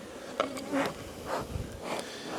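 Honey bees buzzing at an overflowing hive during a hive split, a soft close hum with individual bees droning louder as they pass near, rising and falling in short swells.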